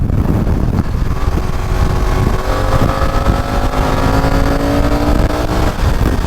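A BMW F900XR motorcycle on the move, its engine note climbing steadily in pitch as it accelerates, loud and close with a constant rush of wind throughout and no talking.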